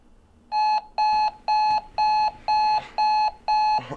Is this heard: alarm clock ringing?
yes